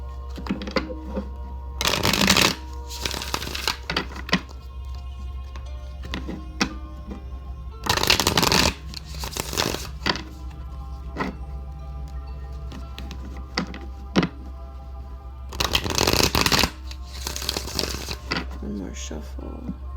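Tarot cards riffle-shuffled in three bursts, each a loud papery flutter lasting about a second, with a low steady hum and quieter handling sounds in the gaps.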